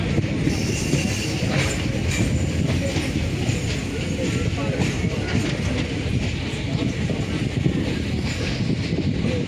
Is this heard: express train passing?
yes